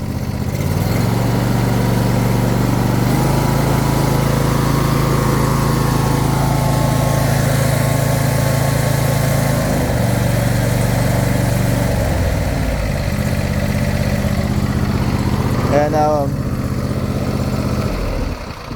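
A John Deere Z545R riding lawn mower with electric fuel injection runs steadily and loudly nearby, its engine droning without a break, the pitch shifting slightly partway through and a brief whine rising near the end.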